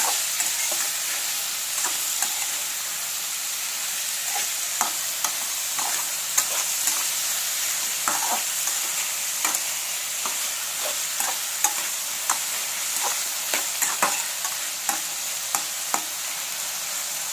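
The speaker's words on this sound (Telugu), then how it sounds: "ఇందులో టమాటా ఆలుగడ్డ ముక్కలు కూడా వేసేయండి. మొత్తం కలిసేటట్టు మొత్తం మిక్స్ చేయండి." Tomato and potato pieces fry in a pan for an aloo tomato brinjal curry, a steady sizzle broken by repeated scraping stirs and clicks of a spoon against the pan.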